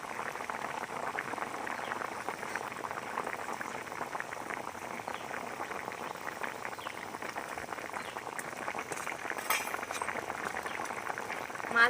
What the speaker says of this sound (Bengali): এবার আরও কিছুক্ষণ ফুটিয়ে নেব